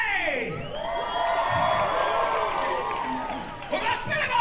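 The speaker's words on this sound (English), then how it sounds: "This side, you will all be cheering for Larry!" Audience at a live comedy-juggling show with flying marshmallows caught in mouths, cheering and whooping loudly in a sustained crowd roar with shouts rising and falling throughout.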